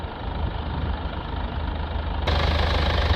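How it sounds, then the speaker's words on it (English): A Mercedes A220 D diesel engine, with a particulate filter soot fault, idles steadily with a low rumbling knock up close, growing slightly louder and fuller partway through. "Now we'll just run the engine for about 10 seconds to blow any of the excess fluid out of the"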